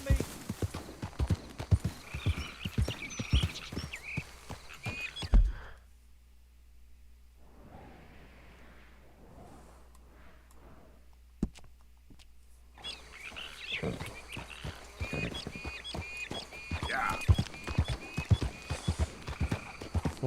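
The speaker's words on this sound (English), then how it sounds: "There's a good old horse." Horse hooves clip-clop in a steady trotting rhythm in Red Dead Redemption 2, with a whinny and birdsong in a quieter stretch, then the hoofbeats resume alongside faint game ambience.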